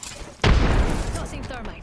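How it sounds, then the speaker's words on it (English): A frag grenade goes off in a video game firefight with one sudden loud blast, then a rumbling, crackling tail that fades over about a second. "Frag. Grenade out."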